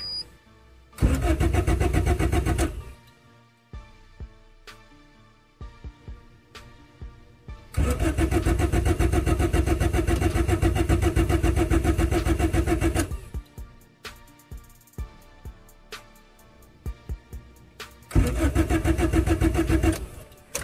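A turbocharged Honda D16Z6 engine cranks in three long bursts of steady starter whirring without catching, separated by quiet gaps with faint clicks, loud and close throughout.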